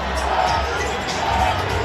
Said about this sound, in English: Everybody's cheering for Joey.